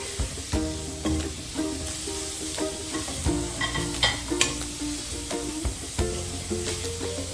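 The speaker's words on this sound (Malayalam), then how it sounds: "ഒരു ചെറിയ തക്കാളി ചെറുതായിട്ട് അരിഞ്ഞതാണ് അത് ഇതിലോട്ട് ചേർക്കുക ഇത് നന്നായിട്ട് വഴക്കണം" Chopped tomato sizzles with masala in a frying pan for a soya masala fry, while a spoon stirs and scrapes in regular close knocks over a constant frying hiss.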